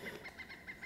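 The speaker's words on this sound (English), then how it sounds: "I'm hearing a pileated woodpecker right now flying over us." A pileated woodpecker flying overhead gives a series of bright, repeated calls at a steady pace, about five notes in under a second, carried over faint outdoor background on a Florida river.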